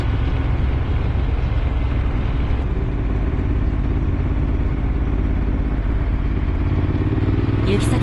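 Ducati Monster motorcycle riding behind a Honda VTR250 on roads near Lake Biwa, Shiga, giving a steady, continuous engine drone with wind rumble throughout, loud and close, with no talking.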